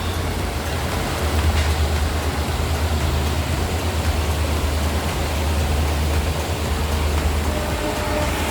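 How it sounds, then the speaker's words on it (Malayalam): A goods train hauled by its engine rolls past near Dudhsagar waterfall in Goa, a steady, loud broadband rumble and rush that holds evenly throughout with no voices. "എൻജിൻ ഘടിപ്പിച്ച ഒരു ഗുഡ്സ് ട്രെയിനാണ് പോയിക്കൊണ്ടിരിക്കുന്നത്"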